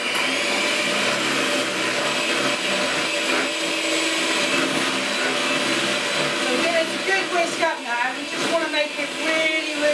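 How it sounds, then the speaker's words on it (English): An electric whisk whirs steadily through gluten-free lemon sponge cake batter in a home kitchen, a continuous motor whine with slight wobbles as the beaters move through the bowl, with a voice heard partway through. "Bit more whisking."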